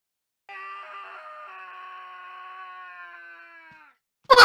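Mr. Wilson lets out a long, sustained scream in Clock Tower 2, close and loud for about three seconds over silence, followed by a brief sharp noise.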